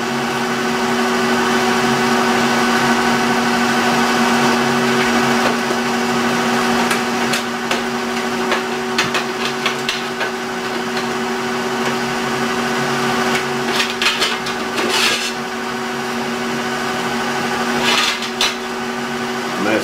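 An aluminum tractor drive hub turns on a lathe, the cut ringing with steady high-pitched tones over continuous machine hum, with intermittent scraping bursts from the tool.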